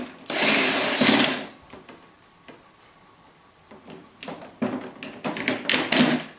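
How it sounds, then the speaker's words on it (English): A power driver removing the middle bolt on a 2016 Harley-Davidson Tri Glide during a handlebar install, with a long whirring run, then a pause, followed by a series of short ratcheting bursts, close and fairly loud. "And then we'll get the middle bolt out."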